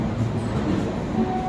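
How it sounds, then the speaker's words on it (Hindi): Electric locomotive hauling the Lucknow–Patliputra Superfast (12530) pulling out of Lucknow Junction, a steady loud low rumble of rolling stock with a faint high whine, no voices. "भाई अपनी ट्रेन का एक्चुअल 5:01 पे डिपार्चर हो गया है लखनऊ जंक्शन रेलवे स्टेशन से"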